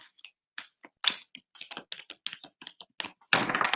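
A deck of playing cards is shuffled clumsily by hand, giving a close series of irregular papery snaps and flutters that ends in a longer, denser rustle.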